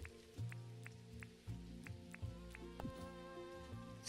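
Steady rain falls in the farming game Dinkum, a soft wash of drops that persists for the whole stretch and sits beneath tonal in-game music with light periodic ticks.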